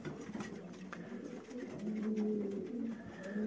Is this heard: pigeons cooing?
yes